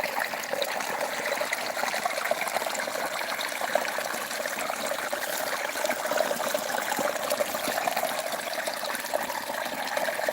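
Irrigation water runs through a tomato field in a steady, unbroken rush and trickle that stays close and even throughout, with no talking.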